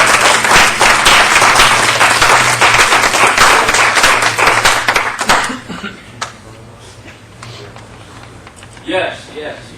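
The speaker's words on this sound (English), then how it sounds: "Another round of applause for the Danby crew." Applause at a town board meeting for a work crew, loud and dense at first, then thinning to a few scattered claps with voices talking underneath.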